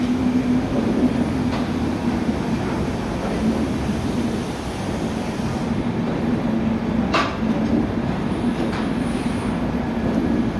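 Rajendra Nagar Tejas Rajdhani train arriving at platform 1 of Kanpur Central railway station, a steady loud rumble of rolling coaches with brief metallic clanks, heard from on board another train.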